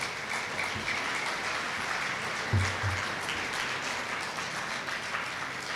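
Applause from parents and coaches at a youth sports gathering, a steady wash of many hands clapping at moderate distance, even and sustained with one brief low thump partway through.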